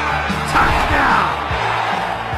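A stadium crowd roars and cheers after a touchdown in a football movie, a dense, steady wall of voices with a few yells rising above it.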